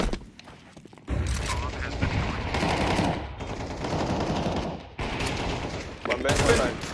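Rapid bursts of automatic gunfire from a Counter-Strike 2 match, loud and dense, with a short pause near the one-second mark and another near five seconds, then a final volley of shots.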